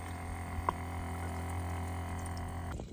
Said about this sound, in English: here I am filling it up with a natural spring in Newfoundland